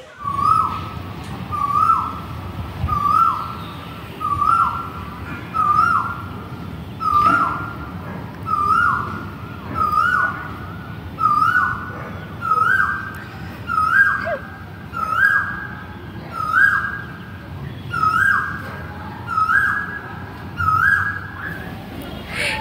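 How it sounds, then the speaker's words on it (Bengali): Asian koel calling loudly and repeatedly outdoors, a rising two-note whistle-like call every second or so that grows stronger over time, over a low background hum. "কোকিলের ডাকটা শুনেছো?"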